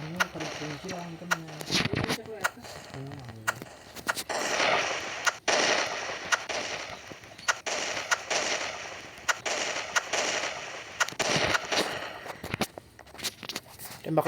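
Rapid bursts of gunfire in the Roblox game Super Power Tycoon crackle throughout, sharp repeated shots mixed with explosions and a voice talking over the action.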